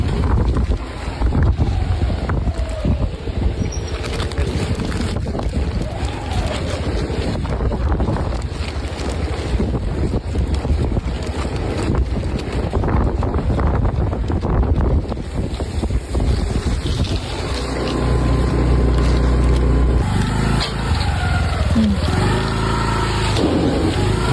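Strong wind blowing hard across the microphone outdoors during a storm that cut the power, a loud continuous roaring buffet with gusty surges, and a low engine-like rumble joining toward the end.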